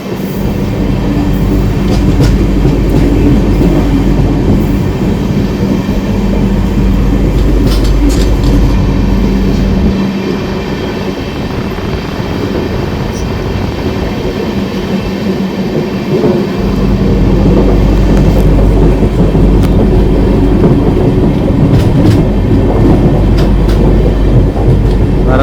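Sapthagiri Express AC coach running on tracks between Chennai and Tirupati, a loud continuous rumble with rhythmic clattering wheels throughout, heard from inside the carriage with no talking.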